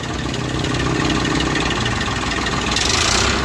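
The 50 hp Eicher 551 tractor engine runs loud and close with a steady diesel rumble, its pitch rising a little toward the end as the revs climb.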